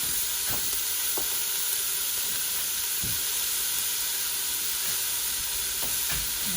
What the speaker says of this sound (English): we're going to let the onions and the garlic cook until they're tender